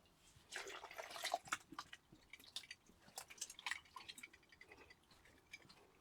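Hot banana pieces with added cold water draining by gravity into a fermenter for banana and honey wine, soft irregular dripping, trickling and squishy wet sounds, faint and close.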